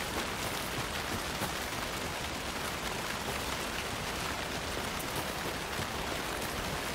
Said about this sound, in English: All that rain.